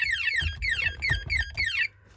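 Texecom Veritas Excel intruder alarm sounding in full alarm, a loud, close electronic siren repeating rapid descending sweeps four times before cutting off abruptly.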